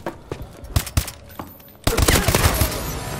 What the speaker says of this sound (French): Cette arme là, MK14, c'est une vraie horreur quoi.